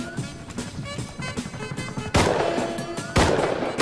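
Gunfire in the survival video game Rust, a rapid burst of shots followed by two loud, sharp bangs close by, with faint background game noise between them.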